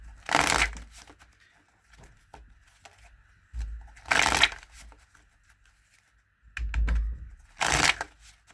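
Stiff tarot cards are shuffled in several short, crisp bursts of riffling and flapping, separated by quiet pauses, heard up close.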